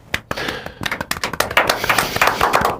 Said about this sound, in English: I didn't know that we were doing an applause break for you guys